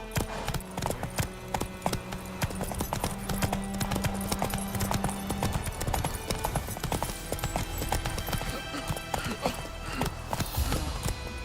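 Horse hooves in The Witcher 3 clip-clop in a steady, fast galloping rhythm, loud and close, with a brief sustained tone early on.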